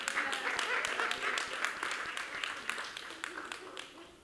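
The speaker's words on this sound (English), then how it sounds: "Y'all can clap." Light, scattered audience clapping during a talk, a steady patter of claps at moderate distance that slowly thins out, with some voices mixed in.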